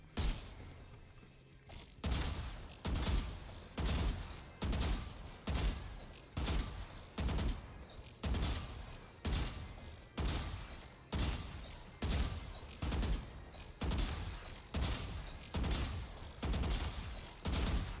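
Gunfire in Valorant aim training against bots: loud single shots at an even pace, roughly one per second, with the odd quicker pair, continuing without a break and with no talk.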